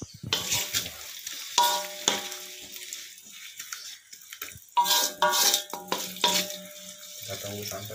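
Chopped onion fries and sizzles in a pan in a home kitchen, with intermittent stirring scrapes and clatter in short bursts, fairly faint and without speech.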